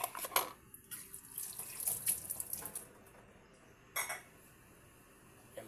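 Dishes and cutlery clink and clatter in a kitchen sink during tidying, sharp irregular knocks with brief bursts of running water, fairly close and quiet, with no talking.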